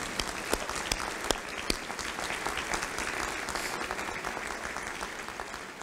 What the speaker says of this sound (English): Let's give a round of applause to those colleagues and family members who have supported you so well.